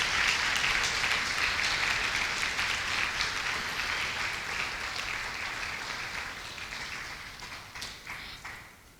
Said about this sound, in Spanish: Dele un aplauso al Señor, pero déselo fuerte,